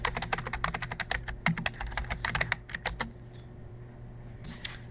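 Rapid bursts of typing on a computer keyboard to sign in to Quizlet, close crisp clicks in quick runs that thin out to a few isolated taps.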